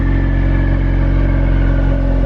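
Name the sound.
car engine with new loud exhaust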